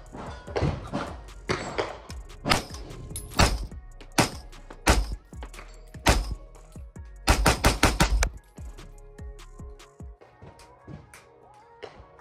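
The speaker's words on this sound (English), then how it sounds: "Let's do about 10 rounds. We're gonna do 5, and then we're going to do 5 fast." Ten rounds from a suppressed rifle fitted with a Griffin Armament charging handle, first several spaced shots, then a quick burst of rapid ones, each a sharp muffled crack with metallic action clatter, fairly close.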